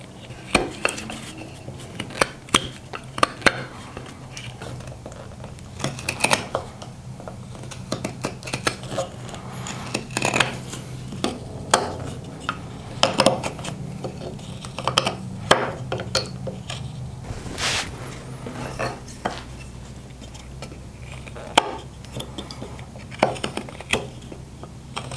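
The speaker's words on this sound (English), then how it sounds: "we're going to sort of pull the knife through the wood and see if we can start carving" Repeated short scraping cuts from a hook knife pulled through a wooden stock, carving work heard as irregular dry clicks and scrapes at close range with no talking.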